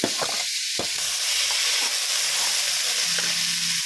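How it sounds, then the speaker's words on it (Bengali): Cauliflower and carrot fry together in a kadai with a loud, close, unbroken sizzle, marked by a few sharp spatula clinks and scrapes near the start and later. "আমি একই সঙ্গে গাজরটাও দিয়ে দিলাম একই সঙ্গে ভেজে নিচ্ছি"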